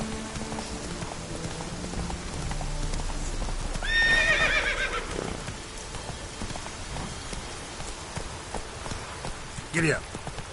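In Witcher 3, a horse's hooves clip-clop steadily on a road, with a brief neigh in the middle and a sharp burst near the end, over a light rainy background.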